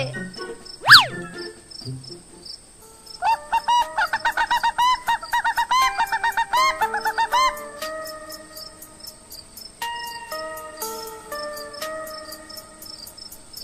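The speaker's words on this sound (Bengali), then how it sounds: "এত রাতে মুরগি চিৎকার করছে" Crickets chirp steadily at night while chickens break into a run of loud, rapid squawks partway through, then fall back to scattered calls over the insect drone.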